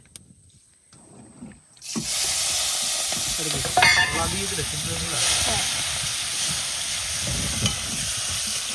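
Panch phoron spices drop into hot oil. After a near-silent start, a loud, continuous hissing sizzle bursts up and carries on, with brief crackles and the stir of a spoon.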